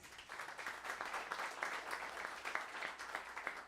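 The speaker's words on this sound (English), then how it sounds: "I want you to give him a really loud applause" Faint, steady applause from a small audience for band musicians at a New Orleans music night, a continuous patter of clapping heard at a distance without talk.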